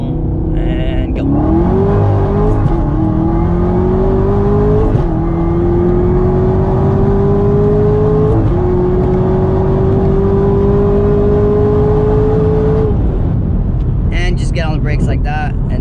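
A 2019 Camaro ZL1 1LE pulls hard from a rolling start in first gear, the engine roaring loud and close as revs climb in long sweeps through several upshifts before lifting off near the end.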